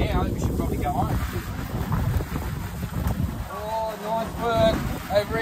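Gusty wind buffets the microphone outdoors on open water while fishing for bluefin tuna, rumbling low and constant, with people talking over it.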